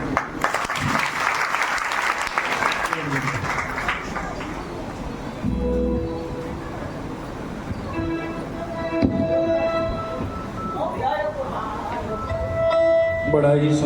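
Loud, sustained applause from an audience after a devotional bhajan performance, with clapping filling the first several seconds and then thinning into scattered claps, bumps and background noise.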